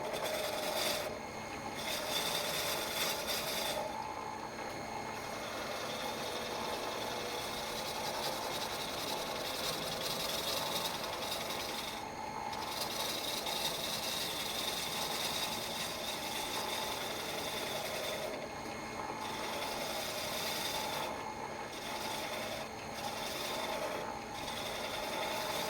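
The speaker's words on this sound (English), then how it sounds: "you can make a nice smooth cut using your roughing out gouge" A roughing out gouge shaves a spinning wooden workpiece on a lathe, producing a steady, close rasping cut that runs continuously with brief lighter gaps as the tool shifts along the wood.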